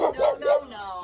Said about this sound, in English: It's puppies.